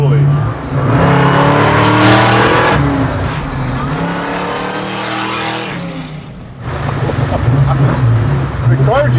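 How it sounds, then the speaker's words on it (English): A custom supercharged 1971 Chevy Nova engine roars and revs hard, loud and close, with the pitch climbing and dropping across several pulls; a voice talks briefly near the start. "The car just sounds nasty. I mean, it just sounds pissed off."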